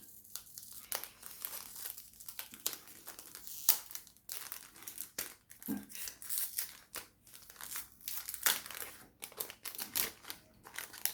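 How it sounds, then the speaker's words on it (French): Paper packaging is slowly and carefully torn open, giving irregular close crinkling, crumpling and ripping bursts with short quiet gaps. "Je vais ouvrir ça hyper doucement. Non, je veux pas que ça se déchire."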